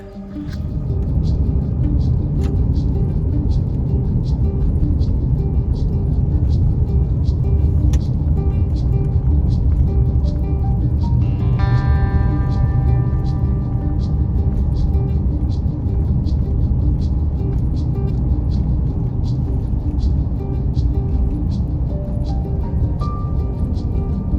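A car drives steadily along a road near a mountain, with a constant loud low road rumble and a regular faint ticking pattern running through it, and no talk heard.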